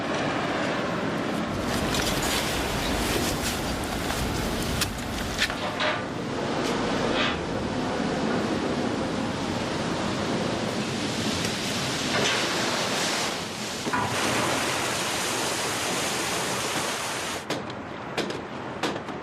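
Water rushes steadily at a water-powered iron hammer forge, a dense, loud, continuous roar of flowing water that runs unbroken throughout.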